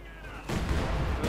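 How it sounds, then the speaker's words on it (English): A field gun fires in the strategy game Company of Heroes 2, one sudden loud blast that jumps in partway through and is followed by a dense, sustained roar of battle noise. "Still got a field gun there, shooting some boxes to bits and pieces."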